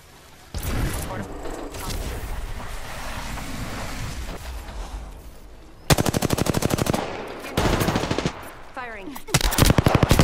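Heavy automatic gunfire from a battle royale match in the video game Apex Legends: sustained rapid bursts of loud, close shots, building after a stretch of rumbling game ambience and broken by short pauses.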